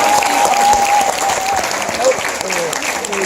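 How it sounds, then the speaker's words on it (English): An audience at a school Rock the Vote event applauds Miss Strasser, steady clapping from a crowd with voices and a faint whistle-like tone mixed in throughout. "Let's give Miss Strasser a big round of applause"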